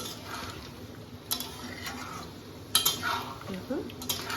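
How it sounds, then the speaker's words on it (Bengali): Mutton curry is stirred in a pot after water is added, with faint, scattered metallic clinks and scrapes of a spoon against the pot over a quiet background. "এবার এই জলটা দিয়ে আবার ভালো করে কষিয়ে নেবো"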